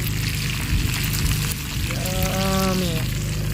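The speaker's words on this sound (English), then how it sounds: "So we're making some bacon." Bacon sizzles in a cast iron skillet over a campfire, a dense steady crackle with low rumbling underneath and a brief whistling tone partway through.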